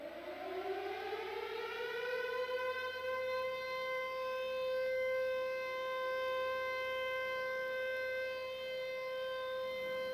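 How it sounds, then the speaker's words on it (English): A Second World War air raid siren before the Coventry Blitz winds up from a low moan to a loud sustained wail, holding a steady rising-and-falling tone with no voices. "One day, the sirens sounded"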